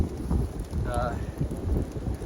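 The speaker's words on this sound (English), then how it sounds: "still very, very windy. Probably hear it in the background." Gusty wind roars outdoors on the Appalachian Trail with rain pattering underneath, a loud rumbling buffeting that rises and falls, plus a brief faint whine.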